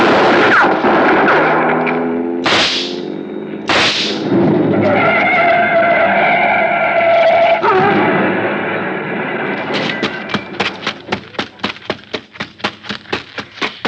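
Old-time radio detective drama effects: a car engine running and revving, two sharp pistol shots cracking out, then a rapid burst of repeated gunfire closing the scene, all loud and close with no talk.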